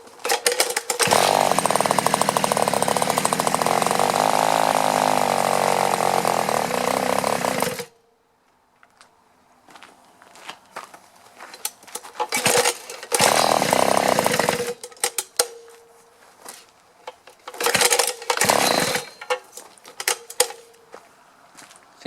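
A Tecumseh TC300 two-stroke engine on a Victa lawn trimmer runs loud and steady for several seconds, then cuts out, followed by a series of short sputtering restart bursts and pauses.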